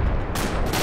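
Gunfire directed at a BTR armored vehicle in Arma 2, a dense, loud burst of shots filling a brief moment, close and harsh with no talk over it.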